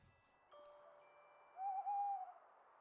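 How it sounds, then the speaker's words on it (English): An owl gives a single clear hoot near the end, rising out of quiet night air after a few faint tinkling tones, and no one speaks. "That was just owl noise at the end."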